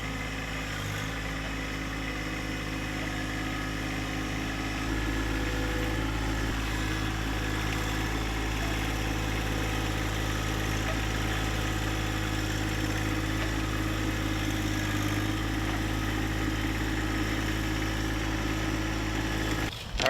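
A small tractor engine idles steadily nearby, a loud, continuous low rumble with a slight rise in level partway through and no talking over it.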